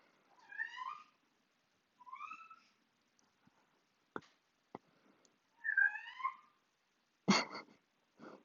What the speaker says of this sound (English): Kitty is meowing.